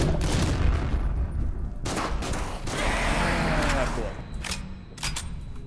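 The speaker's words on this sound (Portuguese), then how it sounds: "agora eu vou descarregar a bala" Gunfire in the video game Killing Room: loud bursts of rapid shots come in waves across the clip, with short gaps between volleys and a voice talking over parts of it.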